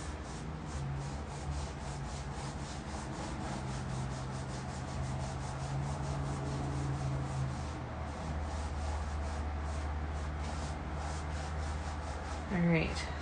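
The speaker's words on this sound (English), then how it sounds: "All right, so I'm just varnishing this piece." A brush spreads satin varnish across a 12 by 24 inch painted canvas, making a continuous soft rubbing swish in repeated close strokes over a low background hum, with a brief knock near the end.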